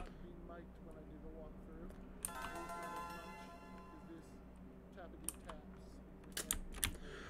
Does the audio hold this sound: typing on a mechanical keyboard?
yes